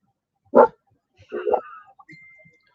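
Dogs on a homestead give a single loud bark followed by a rougher, longer bark and a few softer yips and whines, with a faint whistle-like tone near the end.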